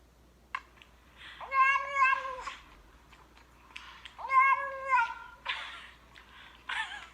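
A cat meows and yowls in drawn-out caterwauls, two long wavering cries with shorter chirps and mews around them, fairly close in a quiet room.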